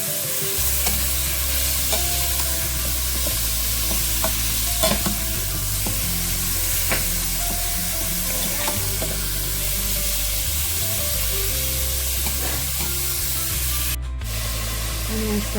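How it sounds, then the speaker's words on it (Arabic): Meat with garlic and onion frying and being stirred in a pan for a white bean stew, a steady loud sizzle with continuous scraping and stirring strokes throughout, close up and without talk. "وهسه راح أدير عليه اللحم مالتي وأحمصه ويا الثوم"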